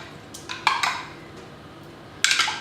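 A utensil clinks and scrapes against a bowl in a few short bursts while chocolate is stirred as it melts. Quiet pauses fall between the strokes.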